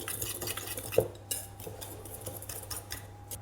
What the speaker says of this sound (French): Je fais ce petit mélange au fouet pour que mes deux poudres soient bien liées.